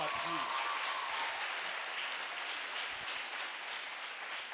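Congregation applause fills a church service, a broad steady clapping wash that holds for several seconds, fairly loud and continuous, with a brief voice at the start.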